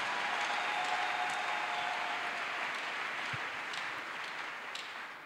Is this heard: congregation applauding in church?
yes